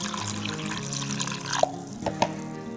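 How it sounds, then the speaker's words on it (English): Water pours from a tap into corn paste in a kitchen while cooking Nigerian agidi jollof, a steady close splashing stream with a few brief drips and plops near the end. "I'm going to add water."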